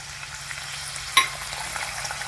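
Egg chilli with capsicum and sauces stir-frying in a pan gives a steady, soft sizzle with light scraping from stirring and one brief metallic clink partway through, with no voices.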